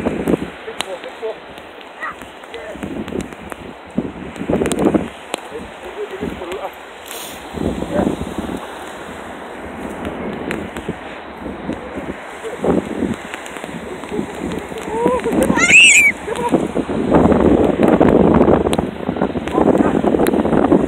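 Wind gusting at a beach, buffeting the microphone in uneven rumbling surges that build toward the end, with a voice briefly present.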